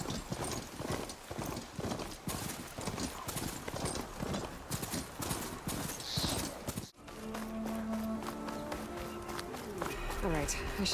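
Horse galloping in the video game Horizon Forbidden West, with steady rhythmic hoofbeats for about seven seconds before the game soundscape shifts to other tones and sounds. Game voices or effects run beneath.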